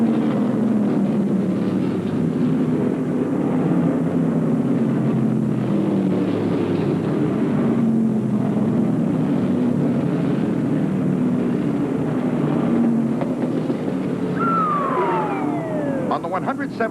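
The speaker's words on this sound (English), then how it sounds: "Ray Hendricks lets it all hang out in his number 11 Nova to maintain the lead" Stock cars race at Martinsville Speedway in the 1975 Dogwood 500, including a number 11 Nova, their engines a loud, continuous droning roar with rising and falling pitch as they pass, under steady commentary.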